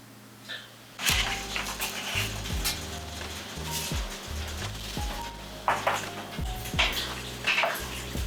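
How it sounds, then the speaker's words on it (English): Eggs fry in a pan with a steady sizzle, under clattering pan and utensil knocks and scraping throughout. "I'm gonna fry up some eggs and enjoy these bad boys."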